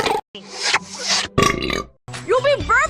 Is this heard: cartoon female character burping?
yes